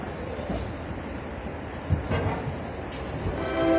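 A train rumbles at a busy railway junction in India, a steady low mechanical drone with faint clanks, and passengers bustle nearby.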